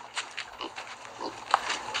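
A mother pig with her litter of sixteen piglets: several short, close grunts and squeals in quick, uneven succession, fairly faint, with no one talking.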